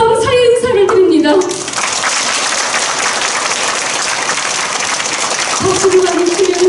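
Sustained applause from a large audience at a Pyongyang art troupe performance in Gangseo-gu community hall, a dense even patter of clapping, with a speaking voice over it at the start and again near the end.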